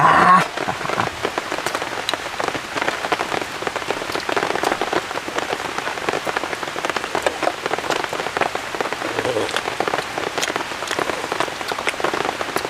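Heavy rain pours steadily onto a surface at a flood-plain campsite in a forest, a dense, continuous patter with scattered sharper drop hits throughout, close and loud with no voices.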